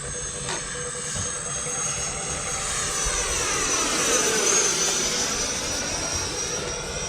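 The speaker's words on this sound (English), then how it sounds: "This thing feels and looks like an F-16 in the sky." An E-flite F-16 RC ducted fan jet streaks across the sky with a sustained high-pitched whine, rising and shifting in pitch as it makes a loud pass overhead.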